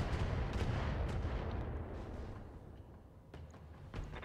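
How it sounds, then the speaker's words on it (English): Weapons fire during a BattleTech mech battle involving a Victor and a King Crab, a heavy booming rumble with a few sharp reports that gradually fades. "They're shooting at me!"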